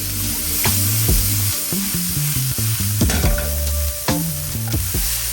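Shallots, capers and minced garlic sizzle steadily in a hot pan for a salmon piccata sauce, a constant close frying hiss that plays under background music with a stepping melody.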